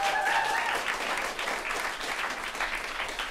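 An audience claps in a steady, dense burst of applause that carries on throughout, with faint voices and a brief whistle-like tone at the start.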